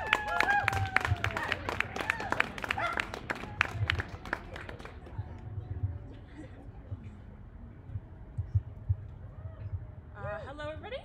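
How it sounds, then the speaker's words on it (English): Audience applause welcoming a graduate student to the stage at an astronomy talk, a scattered clapping burst early on that thins out, with voices and crowd murmur running underneath. "Let's give her a round of applause."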